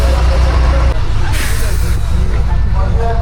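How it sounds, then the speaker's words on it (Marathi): A red MSRTC state transport bus on the Dapoli–Anjarle route pulls in late at night, heavy diesel engine rumbling loud and close with a brief hiss of air brakes; people talk over it. "चला मंडळी, फायनली गाडी आलेली आहे."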